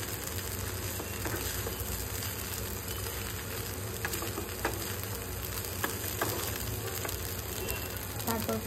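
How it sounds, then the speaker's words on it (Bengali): Flattened rice (chira) frying in a pan over medium flame, a steady close sizzle with scattered scraping as it is stirred and mixed. "আমি চিড়েটা দিয়ে দিয়েছি, আবার এটাকে কন্টিনিউ নাড়তে হবে, এটা পুরো মিক্স করে নিতে হবে এর মধ্যে।"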